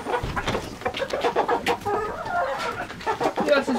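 Chickens cluck and chatter busily while pecking at cooked pasta thrown into their run, with several birds calling over one another in a steady, close, lively stream.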